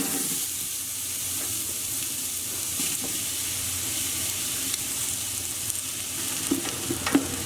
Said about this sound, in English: So we just want to fry this until they soften and brown.